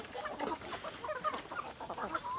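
Chickens at feeding time on a backyard farm where pigs are also being fed, clucking and squawking in a dense, continuous flock chatter close by, with many overlapping calls and no talk.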